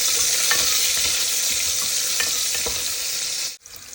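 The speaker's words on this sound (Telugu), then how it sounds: "ఇలా ఆనియన్, పచ్చిమిర్చి వేసుకోవాలి. వేసుకొని ఒకసారి అలా ఫ్రై చేసుకోవాలి." Onion and green chilli fry in a hot pan with cumin and biryani masala for a wheat rava biryani, giving a steady loud sizzle with a few stirring scrapes, then cutting off abruptly near the end.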